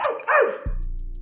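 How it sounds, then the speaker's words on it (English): A dog barks in a Superman film scene as a giant kaiju is about to stomp nearby, with a couple of sharp close barks followed by a low rumbling impact and hum. "There's a dog there barking instead of running."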